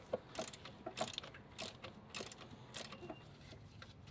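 A ratchet wrench clicks while loosening a crusty alternator bolt on a Jeep XJ, fast faint ratcheting bursts repeating in short strokes, slightly distant.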